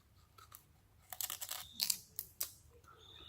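Someone chews on a piece of raw sugar cane, close wet crunching and fibrous tearing in several irregular bursts over quiet outdoor background.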